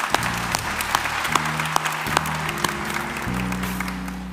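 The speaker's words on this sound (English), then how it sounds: "Give our honorees another round of applause." An audience at a Methodist conference celebration gives honorees a steady round of applause, moderate and continuous over several seconds, with a low sustained tone running underneath.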